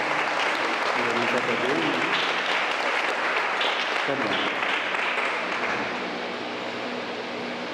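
Applause fills a church mass honouring young altar servers with medals for sports achievements, a dense crowd clapping that starts loud and holds steady before easing slightly toward the end, with some voices mixed in.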